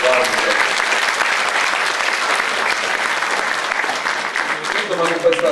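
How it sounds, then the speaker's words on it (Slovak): Loud, dense audience applause honoring a Red Cross award recipient at a community event in Kysáč, a continuous crowd of clapping hands held steady throughout, with faint voices near the end. "preto je jeden veľký aplauz pre Dragana Lázica."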